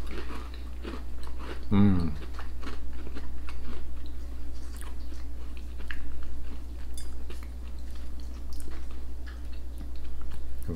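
Someone bites into a Fox's caramel biscuit and chews, giving one sharp crunch early on followed by soft, quiet mouth noises, with a brief murmur of voice.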